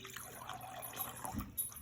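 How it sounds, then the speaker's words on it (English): Vinegar poured into a laboratory beaker, a soft continuous trickle of liquid heard close up for under two seconds. "I'm going to go ahead and pour the vinegar into the beaker."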